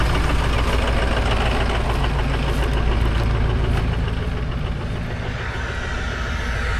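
A 6.0 diesel truck engine idles close by, a loud steady rumble with a rapid knocking beat that holds even throughout.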